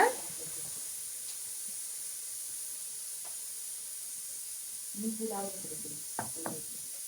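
Ginger garlic paste sizzling in a pan, a steady, even hiss running throughout, with someone talking briefly over it near the end.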